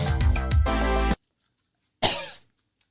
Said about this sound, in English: How am I coughing?